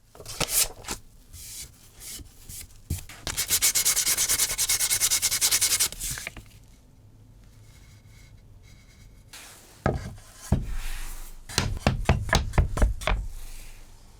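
Rhythmic hand sanding scrapes back and forth over oak wood in loud bursts, with pauses and some knocking between the runs of strokes.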